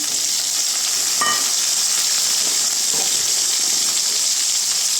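Chopped tomatoes drop into a pan of frying onions and curry leaves for Chettinad mutton chukka, bringing a steady loud sizzle with a brief clatter as they land and stirring scrapes, no voices.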